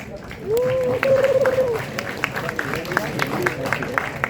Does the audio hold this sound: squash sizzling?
no